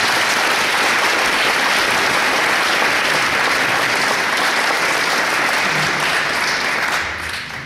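A warm round of applause from an audience at the official opening of a new building, greeting a school superintendent as she comes to the podium: dense, steady clapping that fills the whole stretch and tapers slightly at the end.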